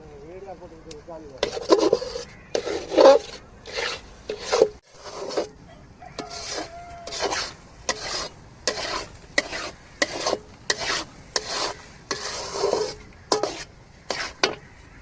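Thick banana halwa is stirred in a pan with a regular series of loud, close scraping strokes against the metal, with a voice talking over parts of it.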